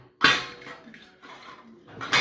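Household dishes being shifted aside during cleaning, with a sharp clatter at the start, soft handling noises in between and another clink near the end, close by.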